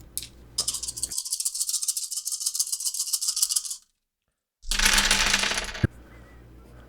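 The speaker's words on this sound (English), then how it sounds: "you're going to add 3 black dice from all the environmental stuff" Dice rolling and rattling on a tabletop during a tabletop role-playing game, two close bursts of clattering separated by a brief silence.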